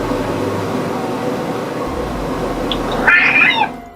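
A normally calm cat gives a single short meow near the end, heard over a steady indoor room hum.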